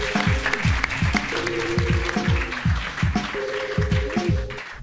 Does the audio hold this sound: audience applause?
yes